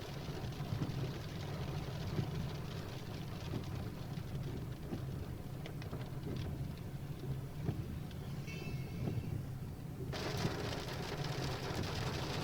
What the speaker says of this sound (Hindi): झमाझम बारिश से मौसम सुहाना हो गया है।